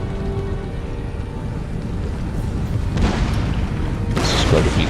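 Cannon fire from a Total War: Empire battle as Russians: a continuous low rumbling barrage of booms with heavier bursts late on, mid-distance and steady, with no talk over it.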